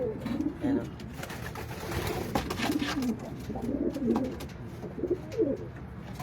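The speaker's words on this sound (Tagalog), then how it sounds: "Last clutch ng pang fifth clutch, mga kalapatids." Pigeons coo repeatedly in soft, throaty bursts at close range over a steady low background hum, with a few faint clicks scattered through.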